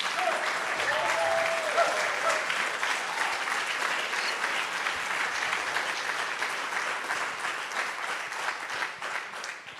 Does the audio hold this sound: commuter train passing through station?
no